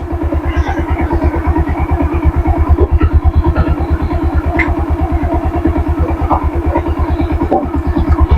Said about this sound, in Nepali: बिस्तार बाइक तताउँदै लाउने आरामले जाने